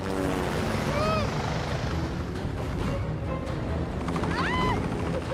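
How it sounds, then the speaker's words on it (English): Helicopters in the video game X4 fly in with a loud, continuous rotor and engine roar that fills the whole stretch, heavy and close, while a voice speaks briefly over it. "two bloody helicopters and two trucks just driving and flying towards us"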